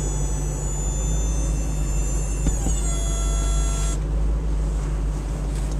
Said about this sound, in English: That was the sound of the roof closing.